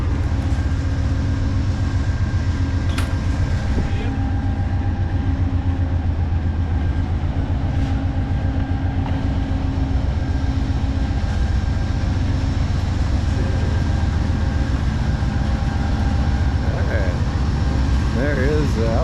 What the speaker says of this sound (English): We're going to take a walk down and check out the trains here.